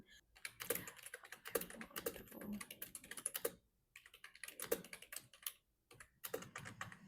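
Quick bursts of clicky typing on a computer keyboard, close and fairly quiet, with short pauses between flurries of keystrokes.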